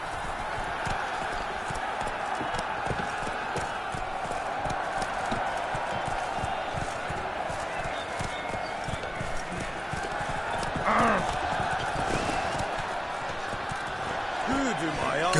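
Roach the horse gallops in The Witcher III, hooves clip-clopping in a rapid steady rhythm close by for the whole stretch, with game ambience and a voice speaking over it.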